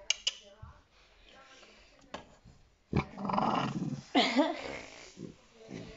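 A dog growls at home, giving low rough snarls in short bursts near the end, after some faint handling noises and near-silence.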